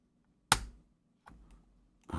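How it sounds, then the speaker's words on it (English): Control key on a brand-new computer keyboard that is already failing, giving a few isolated, hollow clunks with quiet gaps between them, close and fairly soft, with no one speaking. "You can hear my control button every time I hit it."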